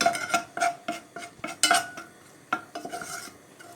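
A spoon stirs flour toasting in a pan, making a rhythmic run of close scraping clinks against the metal with no voices.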